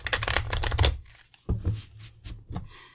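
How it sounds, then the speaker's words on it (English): Tarot cards being shuffled by hand, a rapid riffling burst followed by a few softer, uneven shuffles and taps, close and clear with no talk. "I'm not shuffling very well there"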